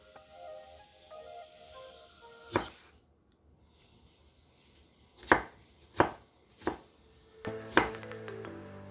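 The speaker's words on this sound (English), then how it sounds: "So you see how those onion pieces are coming out in like nice little cubes. That's why we call it dicing" A knife dices onion into small cubes on a cutting board, giving a few sharp, close chops spaced irregularly, then a quicker run of chops near the end, with quiet pauses between and no talk.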